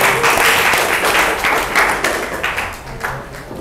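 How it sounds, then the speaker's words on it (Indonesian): Applause from a group in a classroom-style workshop session, a dense spread of claps that rises quickly and thins gradually over a few seconds, with no voices over it. "tepuk tangan dong untuk kita semuanya"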